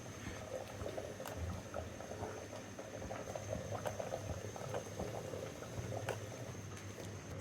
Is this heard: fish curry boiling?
yes